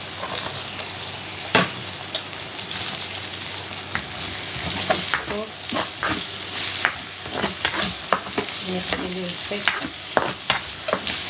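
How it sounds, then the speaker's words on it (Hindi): Large-cut green beans stir-frying in hot oil for vegetable noodles, a steady close sizzle broken by repeated scraping and clattering of a stirring utensil against the pan, with no talking. "अब ये ऑयल के अंदर मैं ये बीन्स हैं, ग्रीन बीन्स, मैंने बड़े बड़े पीसेस काट दिए, ये मैं ऐड कर दूंगी।"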